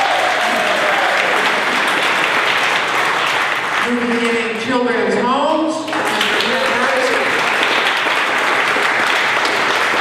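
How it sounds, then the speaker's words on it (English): Loud, sustained applause fills the room at the 2016 Corvette Dream Giveaway awards celebration, a constant crowd roar of clapping that continues while a speaker talks over it partway through. "Let's give them another round of applause."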